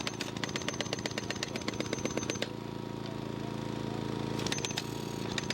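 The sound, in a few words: jackhammer breaking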